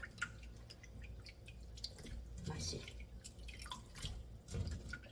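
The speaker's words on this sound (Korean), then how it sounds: "두 번만 헹궈줍니다" Raw oysters are rinsed in water, with soft drips, splashes and sloshing close by at a quiet level.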